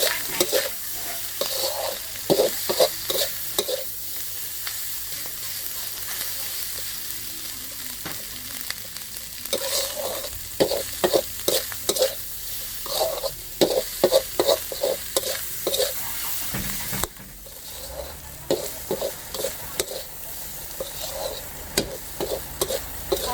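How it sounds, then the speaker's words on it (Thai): Rice with Chinese sausage and dark soy sauce is stir-fried in a pan, with repeated scraping, tossing strokes in bursts over a steady sizzle, close and fairly loud. "ผัดสูตรโบราณนะเนี่ย ดูนำดำเนี่ย"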